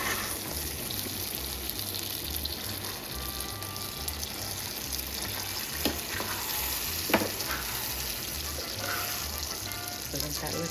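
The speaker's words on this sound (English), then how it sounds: "we're adding the salsa and we're gonna give it a mix" Salsa verde is stirred into ground beef frying in a pan, with a continuous close sizzle and hiss broken by a few soft scrapes and clicks of the utensil.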